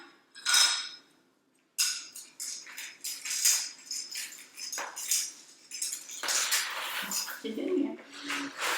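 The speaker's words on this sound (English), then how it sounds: "you can just take your spoon and stir those around" A spoon stirs M&Ms and other candy in a bowl, making close clattering and rattling as the pieces tumble, while a person talks over it.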